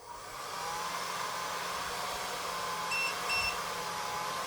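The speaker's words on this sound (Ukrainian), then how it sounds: "Тепер включаємо фен на першу швидкість." A hair dryer hums steadily on its first speed setting, powered by a Datouboss DN-022 inverter, with a couple of faint electronic beeps near the end.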